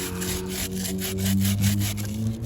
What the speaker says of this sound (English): Give it a good scrub it up.